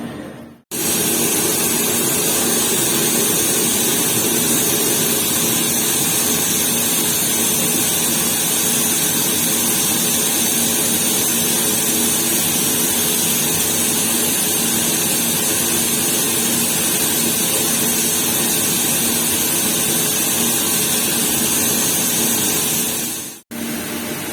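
A machine tool runs a finishing cut on an electrode, producing a loud, steady, unbroken mechanical whir and hum that holds level throughout and stops abruptly at both ends.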